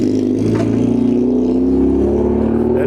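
A noisy Volkswagen Polo's engine drones steadily up close, a loud continuous hum throughout.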